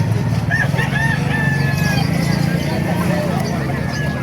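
Rooster crows a few times amid the bustle of an open-air chicken market in Calumpit, Bulacan, under steady crowd noise, clucking and someone talking close by.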